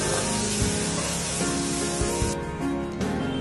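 Chopped onions sautéing in a pan until soft and lightly browned, for a paneer and spinach filling: a steady, close sizzling hiss that carries on throughout with a few soft scraping stirs.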